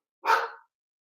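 A single loud, close dog bark, one short burst standing alone against silence.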